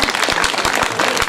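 An audience claps through a stage comedy drama performance, a busy mix of many hands with a few sharper individual claps standing out, steady and fairly loud throughout.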